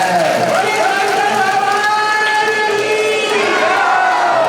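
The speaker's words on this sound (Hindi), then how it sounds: "जोरदार तालियों से स्वागत" A crowd of devotees at a Hindu religious gathering roars and cheers loudly, voices swelling together in a sustained, chant-like din that continues throughout.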